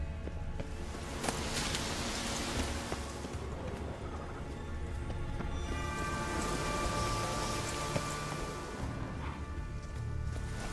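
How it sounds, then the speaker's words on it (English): Steady rain patters across the landscape in The Witcher 3, a dense continuous wash of drops with occasional louder splashes, no voices over it. "Looks like rain."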